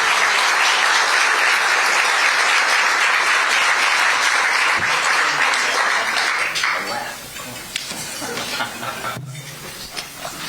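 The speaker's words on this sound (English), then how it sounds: "please give us a round of applause for our two gentlemen that are joining us today" A dense crowd applauds loudly at a Rotary Club debate, the clapping holding steady for several seconds before thinning out to a few scattered claps.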